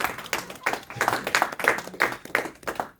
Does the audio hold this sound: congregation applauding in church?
yes